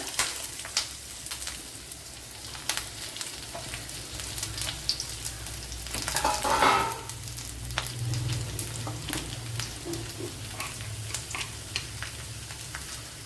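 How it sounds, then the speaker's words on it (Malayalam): Chopped large onion fries in a pan for a Kerala-style bitter gourd dish, giving a steady close sizzle with crackling pops and a brief louder surge midway. "ഇനി ഒരു വലിയ സവാള ഇതുപോലെ അരിഞ്ഞെടുത്തിട്ടുണ്ട്, അത് ഇട്ട് കൊടുക്കാം."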